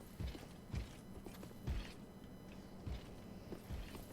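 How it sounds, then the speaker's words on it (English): Heavy, loud footsteps thud in Dark Souls III, about six irregular low impacts spaced across a few seconds over a dim ambient background. "I don't know what those loud footsteps are."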